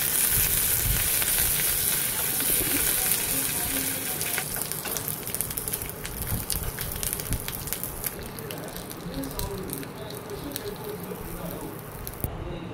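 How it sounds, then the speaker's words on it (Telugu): Cumin, mustard seeds, chana dal, dried red chillies and curry leaves sizzle steadily in hot oil in a kadai for a chutney tempering, a loud continuous crackle with scattered pops throughout. "కళాయి తీసుకొని ఆయిల్ పోసుకొని జీలకర్ర, ఆవాలు, పచ్చెనపప్పు, ఎండుమిరపకాయలు, కరివేపాకు తీసుకొని తాలింపు వేసుకోవాలి."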